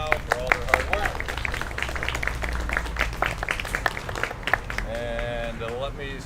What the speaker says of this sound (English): let's give them a round of applause right now for all their hard work